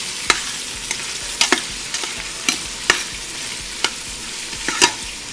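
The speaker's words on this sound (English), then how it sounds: "Let's saute the onions first." Chopped onions sauté in a pan for mutton dum biryani, a steady sizzle of frying broken by sharp scraping clicks as a spoon stirs at irregular intervals, close and without talk.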